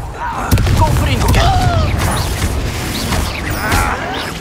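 Confringo fire-blast spells going off in Hogwarts Legacy combat, several booming impacts and crackling bursts in quick succession over busy battle effects, with a voice shouting spell names throughout.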